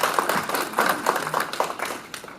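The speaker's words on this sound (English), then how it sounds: "let's give a round of applause to the two doctors that were on" Applause for two doctors at a conference session, a crowd clapping steadily with uneven, rippling claps for a couple of seconds, moderately loud and without talk.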